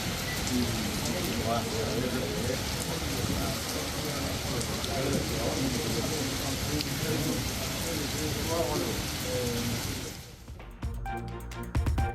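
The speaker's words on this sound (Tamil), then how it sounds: "ஒடிசா மாநிலம் புவனேஸ்வர் உள்ளிட்ட நகரங்களில் கொட்டி தீர்த்த கனமழை" Heavy downpour pounds steadily on surfaces across cities in Odisha including Bhubaneswar, driven by strong wind, a dense continuous roar that drops and thins abruptly near the end.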